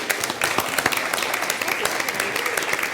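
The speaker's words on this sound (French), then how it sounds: "On les applaudit." An audience at a French debate competition final applauds the finalists, steady dense clapping that fills the whole short stretch at an even, lively level.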